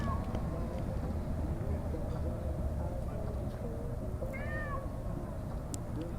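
A cat meowing in a video game, a couple of faint meows rising over a steady low ambient rumble, with no one speaking over them.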